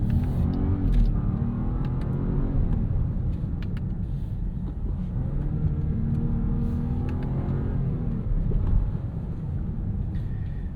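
A 2026 Jeep Grand Cherokee with the Hurricane turbo engine accelerates under a steady, loud engine drone, with rising and falling pitch sweeps marking subtle ZF 8HP automatic gear shifts amid road rumble and some wind noise.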